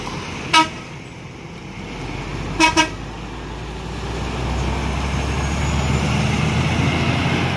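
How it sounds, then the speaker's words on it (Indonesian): A Jetbus 3 Golden Boy coach from the Lestari Alam Raya line passes on a dark road. It gives one sharp horn blast, then a quick double honk, and its engine rumble swells steadily as it draws near. "Ada bus ya, Jetbus 3 Golden Boy, Lestari Alam Raya kayaknya nih"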